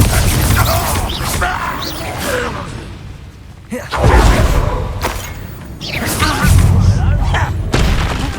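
Confringo fire spell blasts in Hogwarts Legacy, loud booming explosions and whooshes repeating through a chaotic combat mix, with a voice shouting spell names over them.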